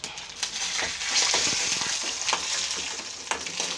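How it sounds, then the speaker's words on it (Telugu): Mustard seeds, cumin, dried red chillies and curry leaves frying in hot oil for a tempering, a steady close sizzle with brief crackling bursts and stirring, no voices. "ఇప్పుడు లాస్ట్లో కరివేపాకు వేసుకున్న తర్వాత పోపు వేగిపోయింది."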